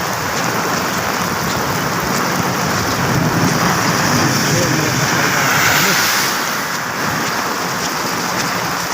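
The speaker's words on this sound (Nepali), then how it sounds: "पानी परिरहेको छ" Heavy rain pours down in Malaysia as a dense, loud, unbroken hiss of drops lasting the whole stretch, swelling slightly midway.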